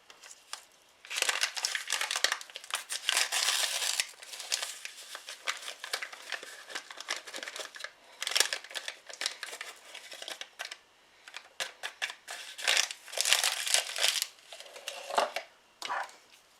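A torn bag of vanilla pudding mix is handled and emptied into a bowl in a kitchen. Close, loud plastic crinkling and rustling comes in bursts separated by short quiet gaps.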